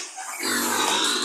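Low grunting of a wild boar swells in partway through, a steady guttural rumble close by over a busy outdoor background.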